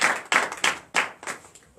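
A church congregation claps together in acclamation, producing about six loud, sharp bursts of clapping with brief gaps between them in an uneven rhythm, close and alone with no voices.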